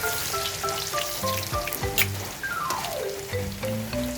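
Garlic sautéing in the leftover oil from frying tilapia, crackling and sizzling steadily up close, with scattered clinks and a melodic tone running over it.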